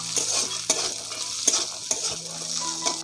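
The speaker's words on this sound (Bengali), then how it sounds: "কাজু আর কিশমিশটাকে ভালো করে ভাজা ভাজা করে নেব।" Cashews and raisins fry in hot oil in a kadai while a spoon stirs them, giving a steady close sizzle broken by sharp scraping strokes roughly every half second, during preparation of sabudana pulao.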